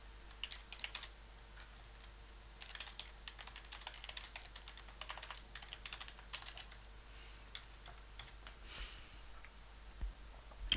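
Fingers type on a computer keyboard in quick, uneven bursts of soft clicks against a quiet room hum, with no voices.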